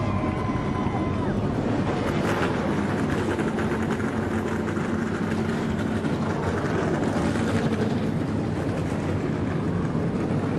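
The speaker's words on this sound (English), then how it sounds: "The engines have fired." Race car engines fire up together at the start of a stock car race in Southern California, a loud, dense, continuous roar that stays steady throughout.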